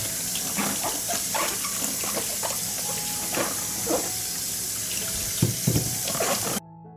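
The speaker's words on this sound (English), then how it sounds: "I'll wash them first." Fresh peppers are rinsed under a running kitchen tap, with a steady close stream of water splashing and gurgling as the peppers are turned and rubbed by hand, continuous for several seconds before stopping abruptly.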